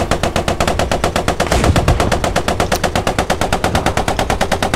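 Rapid automatic gunfire fills a Post Scriptum battle scene, a steady machine-gun rhythm of evenly spaced loud bursts, with a heavier thump partway through.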